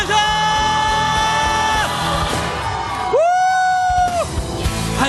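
A crowd of young people at a Christian youth worship rally cheers and shouts, loud whoops and yells mixed with sustained tones that sound like singing or music.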